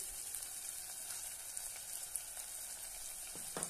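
Whole masoor lentil pulao spices sautéing in a pan, a steady continuous sizzle and frying hiss running unbroken throughout, fairly close, with faint stirring scrapes near the end.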